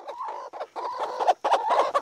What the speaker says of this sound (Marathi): अंडे देणाऱ्या ज्या कोंबड्या आहेत